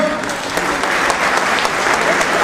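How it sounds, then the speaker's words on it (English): A crowd applauds steadily at a St. Patrick's Day breakfast, dense clapping filling the space at a loud, even level from start to finish. "A nice round of applause for Commander Ingram."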